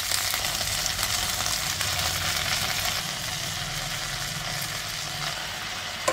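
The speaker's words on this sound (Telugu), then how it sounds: "మీడియం ఫ్లేమ్లో ఇలా కలుపుకుంటూ ఒక 2 నిమిషాలు ఫ్రై చేసేసుకోవాలి." Mint leaves fry in oil in a pan over a medium flame while being stirred, giving a steady, dense sizzle that holds close and even throughout with no voices.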